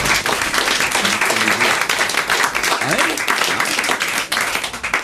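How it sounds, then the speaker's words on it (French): Dense, steady clapping from an audience fills the whole stretch, with voices talking and cheering underneath. "on vous applaudit"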